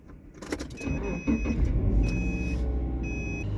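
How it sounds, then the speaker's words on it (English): A car left outside in cold weather cranks and starts, its engine catching into a steady idle rumble while dashboard warning chimes beep in short repeated tones; no one speaks. "The car is starting."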